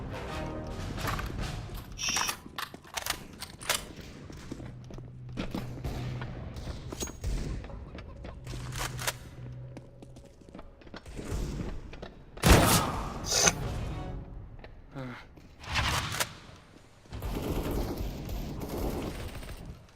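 Gunfire in a Counter-Strike: Global Offensive deathmatch against bots: repeated close, loud bursts of rifle and pistol shots, some rapid automatic strings and single sharp cracks, separated by brief lulls over twenty seconds.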